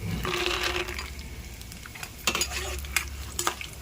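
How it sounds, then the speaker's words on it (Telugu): Peanuts fry in hot tempering oil for pulihora, a steady close sizzle with scraping stirs and light clinks of a utensil against the pan, no voices. "పోపులు వేసుకున్నాను ఫస్ట్, తర్వాత వేరుశనగలు."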